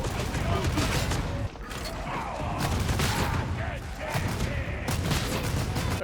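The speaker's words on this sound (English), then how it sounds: "the bolt gun in Darktide just feels so good" Heavy bolt gun fire in the Warhammer 40,000 video game Darktide, a dense stream of loud, punchy shots with mechanical clatter that carries on almost without a break.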